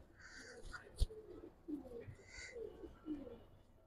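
Pigeons coo softly in low, repeated throaty calls, with a brief knock and faint background noise between the coos.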